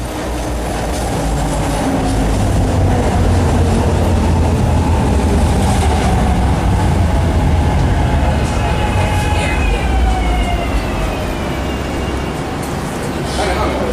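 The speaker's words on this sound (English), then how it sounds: "69th Street train making all stops." A 69th Street train in Philadelphia runs steadily and loudly throughout, its wheels rumbling and clattering on the rails with occasional faint squeals, while voices talk over the noise.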